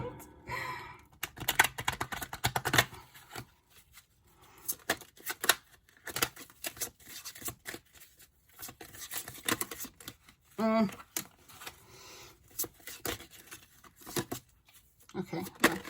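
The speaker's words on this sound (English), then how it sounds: "Can I shuffle? Hold on, let me shuffle" Tarot cards being shuffled by hand in repeated riffling bursts, with a person talking and sighing between and over the shuffles.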